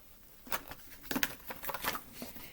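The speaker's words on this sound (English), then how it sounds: "Let me give it a shuffle." Soft papery riffling and flapping in several quick bursts, close by and fairly quiet, as tarot cards are shuffled by hand.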